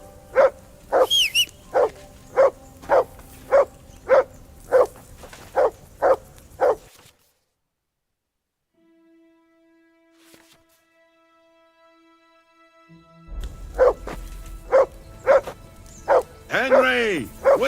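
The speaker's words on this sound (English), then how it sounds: "whistle at that mutt of yours to stop barking" A dog barks in a steady run of sharp, rhythmic woofs in the medieval game Kingdom Come: Deliverance II, goes quiet for several seconds, then resumes barking close by with voices and other game sounds underneath.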